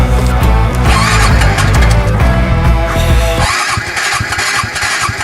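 A motorcycle engine cranks and catches in snowy conditions at very high altitude, loud and close, the steady running note giving way to a rougher, sputtering idle partway through.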